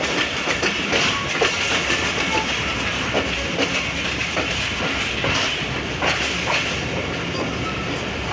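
The Barendra Express, train 732 Down, runs from Saidpur toward Rajshahi with a steady close rumble and rhythmic clickety-clack of wheels over rail joints, joined by faint hissing, with no voices.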